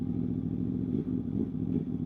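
A V4 motorcycle engine with a quick throttle, giving a low, throaty drone that surges and dips slightly, heard close and on its own.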